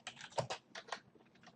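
Quick, light clicking of fingers typing on a computer keyboard, a rapid irregular patter of keystrokes that is faint and close and fades toward the end.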